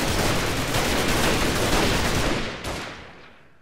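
Sustained gunfire in the Half-Life mod Freeman Guerrilla Warfare, a dense, loud, continuous barrage of shots that tapers off, with one last sharp crack near the end before fading.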